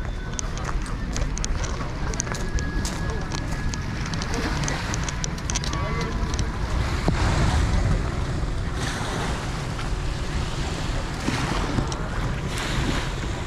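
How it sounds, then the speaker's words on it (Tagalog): Many boats crowd Maya Port in Daanbantayan, North Cebu. Steady surf and wind wash over the harbor, with a constant outdoor rumble of water and vessels throughout. "Yan yung mga napakaraming bangka."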